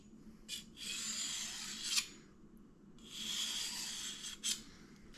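Knife blade sharpened on a diamond sharpener, two long, even rasping strokes with a few short scrapes, close and fairly quiet.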